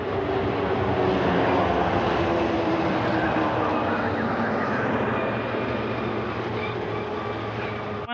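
Stage 1 thrusters of a rocket lifting off for the International Space Station on an Expedition 39/40 launch produce a broad, loud, continuous roar that rumbles steadily and fades slightly toward the end.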